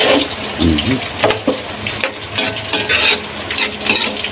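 Hot water from a thermos splashes and trickles steadily into a cooking pot of sautéed vegetables to make broth, with clinks and stirring noises mixed in, fairly close and moderately loud.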